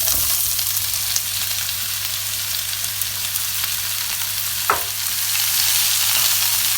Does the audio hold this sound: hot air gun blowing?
no